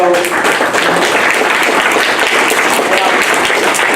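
A town hall audience with a U.S. congressman breaks into steady, loud applause, dense clapping filling the room continuously without pause, with a murmur of crowd voices mixed in beneath it.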